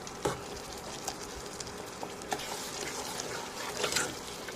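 Ridge gourd cooking in hot oil with garlic chutney, a steady soft sizzle with a few brief clatters and stirring noises, no talk heard.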